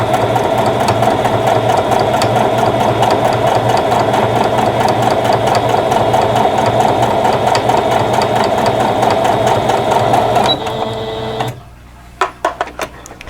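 A brand-new sewing machine runs steadily and stitches at a fast, even mechanical rhythm, loud and close, for about ten seconds, then slows and stops with a few final clicks.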